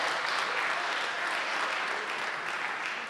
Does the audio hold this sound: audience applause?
yes